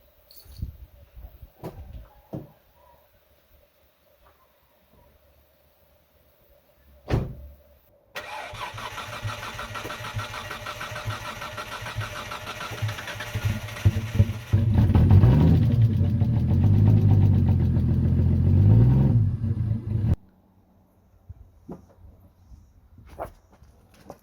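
A Nissan Skyline R33 GTR cranks over and fires after an engine transplant, then settles into a loud, rough idle with a few revs close by before shutting off, leaving quiet background.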